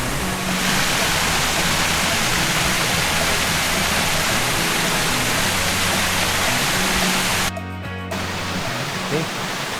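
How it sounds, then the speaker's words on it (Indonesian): Pancaluwa waterfall on Mount Pangrango pours in a loud, steady broadband roar that fills the whole stretch, with voices faintly present beneath the rushing water. "Kita sudah melihat-lihat air terjun Pancaluwa."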